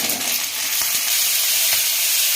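Green chili, beet and carrot stir-frying for street-style chow mein, a loud, dense, continuous sizzle with a few stirring scrapes, close up.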